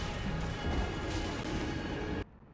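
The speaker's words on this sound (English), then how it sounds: "Do you hear these fireworks?" Fireworks boom outside as a continuous, dense rumble of blasts, loud and steady before cutting off abruptly near the end.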